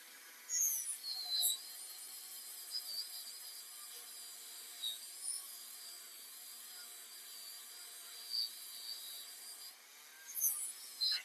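A blue polishing wheel buffs a scrap silver necklace, giving a faint, steady high whir with a few brief louder rubbing swells as the piece is pressed against it.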